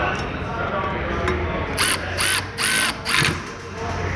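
A Milwaukee Fuel 12V cordless ratchet whirs in four short close bursts of motor whine with clicking mechanical texture, separated by brief pauses, over a background of room noise.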